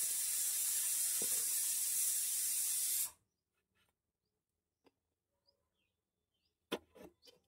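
A pressure cooker holding carrots and potatoes lets off a loud, steady rush of hissing steam for about three seconds. It cuts off abruptly, followed by near silence with a few faint clicks and a short burst of knocks.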